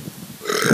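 A single short, loud burp, close to the ear, that rises into a rough, throaty belch at the end and stands alone without any talk.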